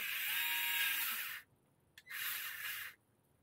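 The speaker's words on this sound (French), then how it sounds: "Ça aussi, je le tiens un petit peu, le tournevis électrique." An electric screwdriver driving a screw into a threaded hole during servicing of an Arrma Mojave 4S RC car, whirring in two steady bursts, the first about a second and a half, then a short pause and a second similar run.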